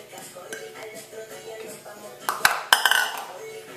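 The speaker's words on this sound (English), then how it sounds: "And you mix it in with the meat." Cooked, cooled onions being stirred into empanada meat filling, with scraping and a few sharp clinks of a utensil against a bowl building near the end over faint room noise.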